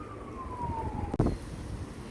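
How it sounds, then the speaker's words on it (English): An emergency vehicle siren wails steadily in bad weather with high winds, its tone sliding slowly downward, with a brief thump partway through over constant traffic rumble. "Sirens and bad weather."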